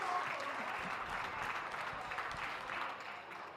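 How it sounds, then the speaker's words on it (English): Spectators at a championship dog show give a steady round of applause, a dense, even clatter of many hands in a large hall, moderately distant and continuous throughout. "Liz, that's a round of applause."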